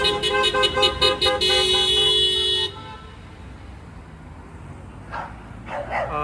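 Passing drivers honk car horns in support of protesters in Kharkiv, a run of rhythmic toots and then a long blast, followed by fainter horns further off, with a dog barking in the mix.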